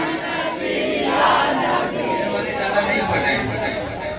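A jalsa crowd shouts a loud collective response to the Nara-e-Takbir call, a sustained swell of many voices that rises and then holds as a roaring chant.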